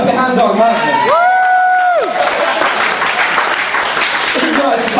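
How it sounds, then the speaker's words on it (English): An audience at a poetry jam applauds as a poet comes on stage. Loud, continuous clapping mixes with cheers and a long whoop, and crowd voices run through it. "This is nice to come on to applause."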